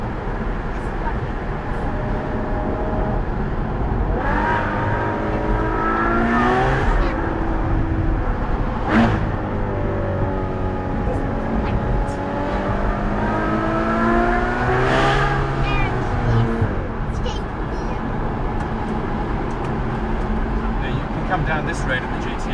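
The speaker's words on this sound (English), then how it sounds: "Come down this road in the GTO and it's just snarling, fire spitting" Ferrari GTO engine revving hard on a road, rising and falling snarling sweeps as it accelerates through gears, loud and close, with someone talking over parts of it.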